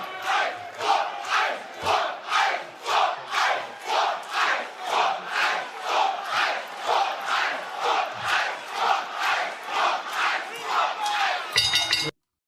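A wrestling arena crowd at the opening bell chants in loud rhythmic unison, roaring bursts repeating about every half second for several seconds, massed and echoing.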